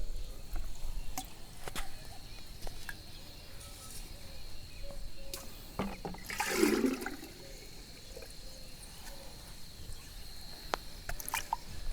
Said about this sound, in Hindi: इनमें क्या करेंगे हम समान मात्रा में सभी में पानी डाल लेते हैं